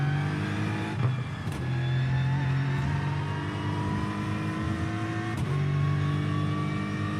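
A race car engine in the iRacing video game revs and drones steadily with shifting tonal pitch, a few sharp passing bursts, loud and continuous with no talking.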